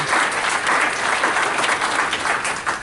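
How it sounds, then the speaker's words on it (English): A conference audience at a statewide vocational rehabilitation event breaks into loud, dense applause, sustained clapping filling the room throughout without a break. "Let me give me a hand clap for that one."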